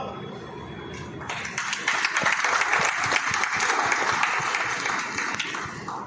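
An audience at a product-knowledge sales meeting in Kanpur breaks into applause that swells quickly after a quiet start and keeps going as dense, steady clapping from many hands, with a little voice underneath.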